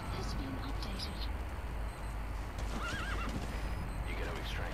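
D-Horse, the horse in Metal Gear Solid 5, whinnies and snorts amid steady hoofbeats, with game ambience and a faint voice under a constant low rumble.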